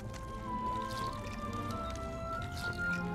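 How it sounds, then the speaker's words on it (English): Thick goulash bubbling in a cauldron in the fantasy game The Dwarves, a soft continuous wet gurgling and squelching with low bubbling pops beneath faint tonal ambience. "The goulash is bubbling in the cauldron."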